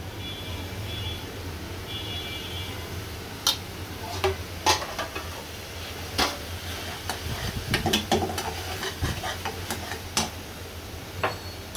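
Turmeric and chili powder sizzle in hot oil while being stir-fried for a spicy chicken bhuna, with a steady frying hiss broken by sharp spatula scrapes and taps against the pan. No one speaks.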